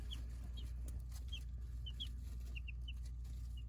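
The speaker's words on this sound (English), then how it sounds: "We got all these chickens, so there's 10 chickens in there total" Young chickens in a brooder box give soft, high peeps over a steady low hum, spaced irregularly and heard close but faint.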